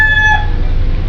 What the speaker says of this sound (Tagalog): Klaseng mananalo taraok ng manok.